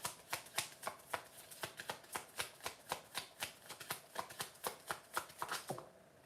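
Tarot cards being shuffled, a close, even series of soft snapping riffles repeating about every third of a second for six seconds, with no voices.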